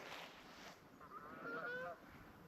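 Geese honk at a distance along the River Trent, a few nasal calls overlapping in a short burst, faint over a steady outdoor hiss.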